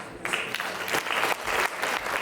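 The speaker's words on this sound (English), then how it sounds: "I just want to give a big round of applause" A short burst of audience applause for the performers at a devotional stage event, clapping swelling in uneven waves of dense hand claps, close and fairly loud with no voices.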